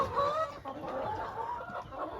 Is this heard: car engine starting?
no